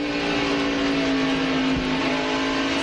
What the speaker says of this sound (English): Hear the engine rev.